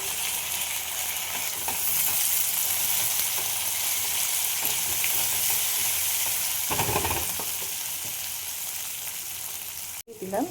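Peas fry in a pan for a garlic egg dish, giving a steady close sizzle with occasional stirring scrapes and a louder clatter near the end.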